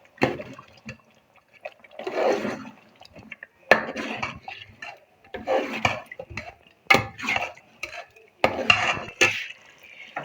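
Cream being stirred into a pot of chicken masala makes irregular wet, thick mixing and squelching strokes with brief clinks of a spoon against the pot, in short bursts separated by silence.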